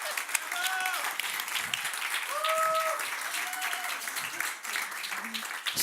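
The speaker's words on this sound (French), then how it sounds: "est-ce qu'on peut applaudir pour démontrer qu'on est nombreux?" A large live audience in a hall applauds steadily with dense clapping, and voices call out over the noise.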